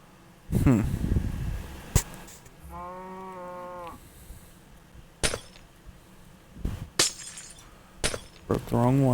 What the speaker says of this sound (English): I love the sound of breaking glass on here